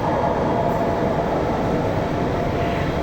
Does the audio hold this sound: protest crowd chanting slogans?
no